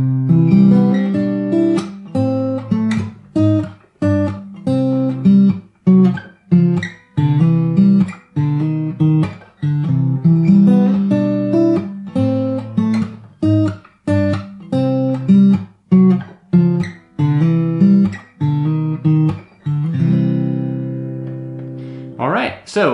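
An acoustic guitar picked fingerstyle plays the intro to a song, a bouncy run of plucked bass notes and chords at a steady loud level, played alone and close up, ending on a ringing strum.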